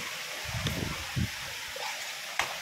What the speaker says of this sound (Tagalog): Masyadong malakas po yung hangin.